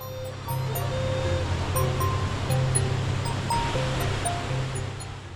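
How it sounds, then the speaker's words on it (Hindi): The Yarkhun river drops as a waterfall through a narrow gorge beneath a bridge, giving a steady, loud rushing roar that holds throughout, with faint tonal hums underneath. "इस पुल के नीचे दरिया यारखून अपनी गुजरगाह के सबसे तंग हिस्से से एक आबशार की सूरत में गिरता हुआ"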